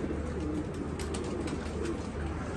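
Pigeons in a loft of strong-winged racing birds, soft cooing under steady close ambient noise, no talking, continuous through the short stretch.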